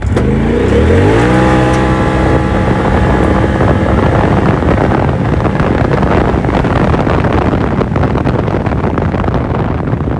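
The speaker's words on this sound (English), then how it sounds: "So here goes four-wheel drive in gravel." A 2021 Polaris RZR XP Turbo accelerates hard on gravel in four-wheel drive. The engine revs climb steadily and loud, close to the microphone, with heavy wind noise and no talking.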